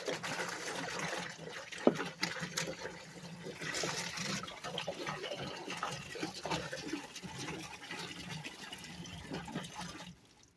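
Muriatic acid glugs and trickles out of a gallon jug outdoors, a continuous splashing pour of about ten seconds with a small knock near the start, fairly quiet, ending abruptly.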